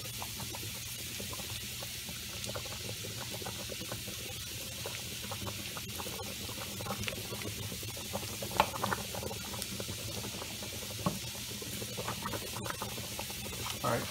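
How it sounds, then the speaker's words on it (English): A pot of pasta bubbles on the stove in a home kitchen, a steady low simmering hiss with small pops and occasional clinks, moderately quiet in the background. "Probably hear something bubbling. That's my pasta over there cooking."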